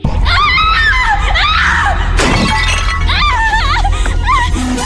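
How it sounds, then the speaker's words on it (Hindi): A girl's shrill scream from the Uzumaki horror anime rings out loud and close over a dense, noisy soundtrack, broken midway by a sharp crash, with more cries following. "इस खौफनाक मंजर को देखकर लड़की की चीखें निकल उठती हैं"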